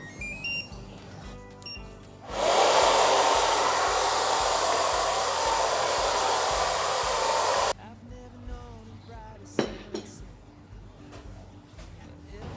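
Hotel-room hair dryer with an ionizer switch at a luxury Yufuin hot-spring inn, switched on for about five seconds as a loud, steady broadband whoosh with a faint whine, then cut off, leaving quiet room noise.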